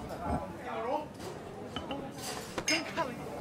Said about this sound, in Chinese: 来，干杯，老雷！